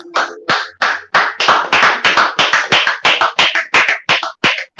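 A small group claps along a livestream anniversary celebration, a quick run of about twenty sharp, close slaps in steady rhythm with no talk over them.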